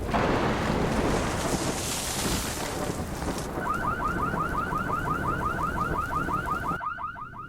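A car alarm goes off outdoors in wind, a repeating rising electronic whoop cycling steadily over broadband wind and water noise before cutting off abruptly near the end.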